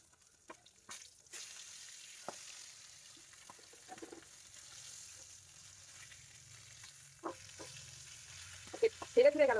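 Fish sizzles steadily in a frying pan, its skin side sticking and scorching, with soft hissing punctuated by occasional clinks of a utensil and a louder scraping stir near the end; no one speaks.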